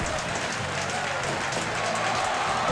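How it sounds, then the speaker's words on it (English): Steady crowd applause and cheering from a wrestling video game, Fire Pro Wrestling World, fills the background, a continuous wash of clapping at moderate volume. "big applause from the fans"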